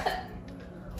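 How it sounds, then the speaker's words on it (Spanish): A person gives a single small, short cough near the start, close by, followed by quiet indoor room noise. "¿Vieron la tosecita que tiene?"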